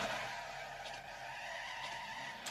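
Tires screech in a sustained skid as a Mazda MX-5 drifts in a racing video game, a steady bright squeal with engine noise held at an even level throughout.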